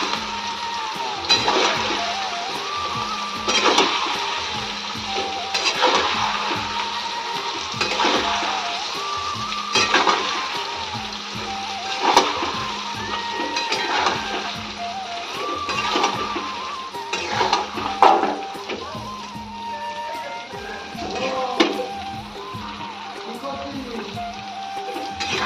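Raw mango pieces with salt and turmeric are stirred in a pan, repeated scraping strokes and light clatter at an uneven rhythm, close by, with faint background music and no talk.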